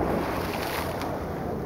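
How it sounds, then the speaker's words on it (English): Choppy harbour water churns and slaps against the shore near the Manhattan skyline, a loud continuous wash of surf mixed with wind buffeting on the microphone, with no talking. "the harbour is very like agitated today. So the water comes in and hits every like few seconds."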